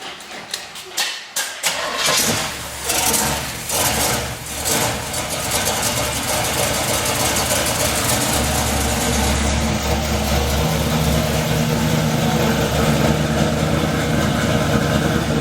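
An engine cranks over briefly and catches, then settles into a loud, steady idle that runs on for over ten seconds with a low rumble.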